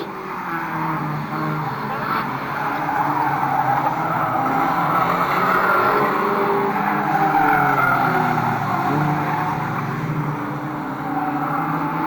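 Race cars, a Honda in the lead, circulate in a trailer race at Fleet Raceway, a steady droning engine roar with a faint tyre scrub, moderately distant and continuous.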